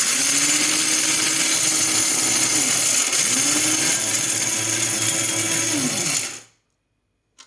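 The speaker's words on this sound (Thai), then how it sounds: "บดแค่ เล็กน่อย ที่เหลือก็ค่อยบด บดแค่เอาไว้ดื่มพรุ่งนี้" An electric grinder whirs steadily as it grinds roasted coffee beans, its pitch dipping and rising twice as it labours through the load, then cutting off abruptly into silence.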